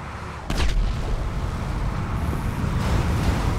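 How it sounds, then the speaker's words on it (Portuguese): In GTA V Online, a rolling gas canister blows up in a sudden loud boom with a short crackle, then a dense rumbling roar of engines and game noise carries on underneath. "Os galões explodem."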